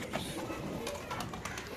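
Pigeons cooing steadily amid a dense, busy background of birds at a pigeon farm, with no clear talking.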